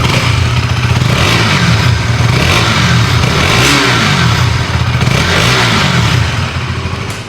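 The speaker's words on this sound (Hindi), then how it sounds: "ज़रा सा आप थ्रॉटल लेते हो देन काफ़ी अच्छी साउंड आपको सुनने को मिलती है।" A KTM Duke 200 motorcycle engine revs loudly and steadily, its throttle blips rising and falling in a deep, bassy exhaust drone that stays close and continuous with no talking.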